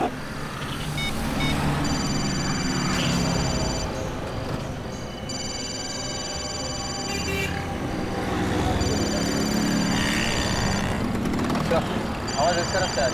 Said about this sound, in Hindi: फोन की घंटी अंदर ही बज रही है।